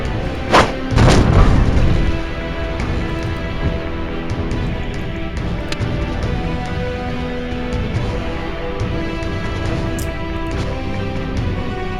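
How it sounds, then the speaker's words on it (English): A frag grenade blows up in the turn-based game Templar Battle Force: one heavy booming blast with a low rumbling tail that fades within about two seconds into quiet game ambience. "He does have a frag grenade, which will be damaging to AoE. We're going to move him up 1 and throw this grenade"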